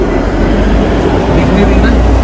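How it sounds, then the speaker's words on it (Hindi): Kalka–Shimla narrow-gauge train passing near Kaithlighat railway station in the hills near Shimla, a steady loud rumble of rolling wagons sustained throughout, close by, with wind or engine noise mixed in. "ये देखिए जी कालका शिमला ट्रेन जा रही है"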